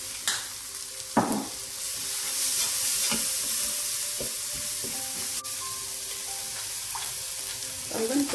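Garlic and seasoning sizzle in hot frying oil for shrimp in garlic sauce, a steady close crackling hiss with occasional stirring clinks and scrapes against the pan, no one talking.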